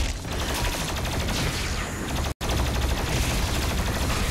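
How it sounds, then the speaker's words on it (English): A plasma rifle fired in Doom Eternal, giving a loud, dense stream of rapid, rattling energy shots with mechanical clatter, holding constant except for one brief cutout partway through, with no voices. "this frickin' plasma rifle is stupid"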